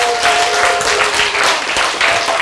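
A crowd at a health lecture claps vigorously in a dense, continuous burst, loud and close, with no clear cheering voices standing out.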